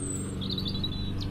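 A small bird chirps a few quick high notes, faint over a constant mechanical drone.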